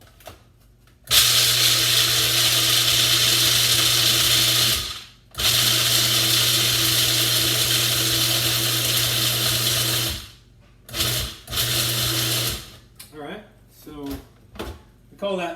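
A food processor chopping pistachios whirs loudly in long bursts, stopping briefly between them, then several short choppy pulses at the end.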